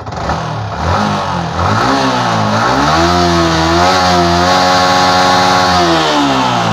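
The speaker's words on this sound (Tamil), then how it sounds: "நான் வண்டியை லைட்டாக ரேஸ் பண்ணுறேன்." A Yamaha R15 motorcycle engine, on a bike being checked for radiator air lock, revs steadily upward from idle and holds a loud, rising drone for several seconds with no talk.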